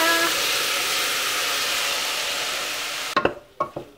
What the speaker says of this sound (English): Now we have to keep on stirring it till the tomato is all mushy and cooked nice.